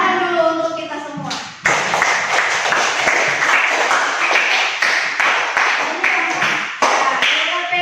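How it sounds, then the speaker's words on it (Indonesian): A classroom of seventh-grade students claps hands in a coding and artificial intelligence lesson, a bright, dense round of clapping that swells after a teacher speaks and continues in uneven bursts. "Tepuk tangan dulu untuk kita semua."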